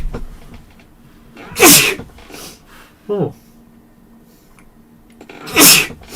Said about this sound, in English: I take it that was you sneezing.